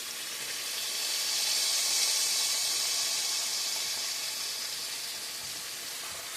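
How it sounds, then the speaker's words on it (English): Beef for a Mississippi pot roast sears in a hot pan, making a loud, continuous hiss that swells and slowly eases, close and alone without any voice. "You're just searing this meat."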